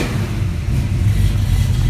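A 1974 AMC AMX Javelin engine just after starting, a loud, close, low rumbling idle that rises slightly in a steady drone.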